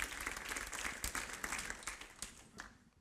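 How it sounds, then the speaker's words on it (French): An audience in a church service breaks into steady applause, a dense patter of many hands clapping at moderate distance that fades slightly toward the end. "vous pouvez applaudir ces gens-là"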